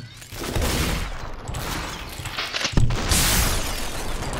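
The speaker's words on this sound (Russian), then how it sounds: "вот с винтовочки лучше давайте постреляем" Rifle fire in the Superhot video game: a sharp close gunshot crack stands out midway, with more muffled shots and clatter around it, loud against a busy game background.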